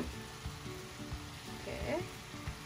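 Yakisoba noodles with ground chicken stir-frying in a pan, a steady sizzle broken by repeated scraping and tossing strokes, close and moderately loud, no talking.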